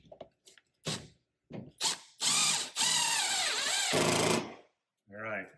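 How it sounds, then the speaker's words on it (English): Cordless power drill on a low clutch setting driving screws into a wall for a Tesla charging cable organizer mount, several short bursts followed by longer whirring runs that ratchet at the clutch, loud and close. "And power tool sure makes it easier."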